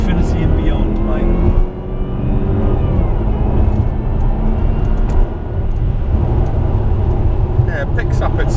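A Jaguar XJR sport version accelerating hard, its engine a loud, steady roar from inside the car that holds throughout, while people in the cabin talk over it.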